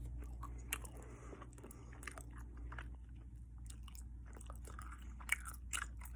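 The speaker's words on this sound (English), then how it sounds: "Been a couple hours, chewing the gum for a while" Gum being chewed close up, faint soft wet clicks and smacks repeating irregularly over a low steady hum.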